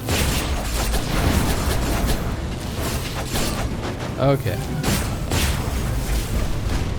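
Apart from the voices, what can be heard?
explosions in the video game Skul: the Hero Slayer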